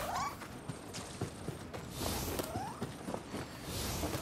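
A cat in the video game Nioh 2 gives a couple of short, faint meows, spaced a couple of seconds apart, against quiet game ambience with light creaks and footstep-like taps.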